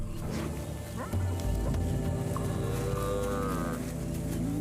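Buffalo herd calling on the African plains: deep, drawn-out lowing moos from several animals, loud and near, layered over each other with a rising call near the end.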